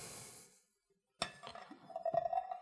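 A martini glass rim is dipped into a dish of white chocolate liqueur, giving one sharp clink of glass on the dish. Soft scraping and faint glassy ringing follow at close range.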